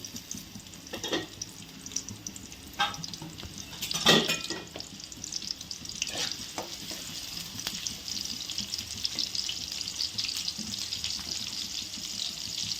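Onions sizzling in a pan for a gongura prawn curry, a steady soft frying hiss with occasional stirring clatters and scrapes, fairly quiet and continuous with no talking.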